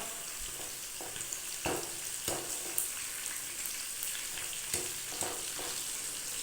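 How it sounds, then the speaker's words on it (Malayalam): Chicken frying in hot oil in a pan, a constant close sizzle broken by occasional scraping stirs, quiet and steady with no speech. "ചിക്കൻ ഇതാ നല്ലോണം കുക്കായിട്ട് വരുന്നുണ്ട് ഇടയ്ക്ക് ഇളക്കി കൊടുക്കണം കേട്ടോ"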